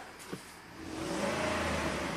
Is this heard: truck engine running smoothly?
yes